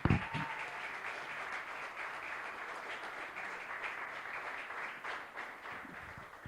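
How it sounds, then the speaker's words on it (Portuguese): Steady applause from a church congregation fills the room, a continuous wash of many hands clapping at moderate distance with no voices over it. "Mais palmas ao Rei dos Reis,"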